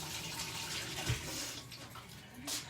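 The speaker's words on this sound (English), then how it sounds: "I'm going to wash my hands again." Hands washed under a running kitchen tap, a soft, hissing stream of water with splashes and a brief thump midway, fairly quiet and continuous.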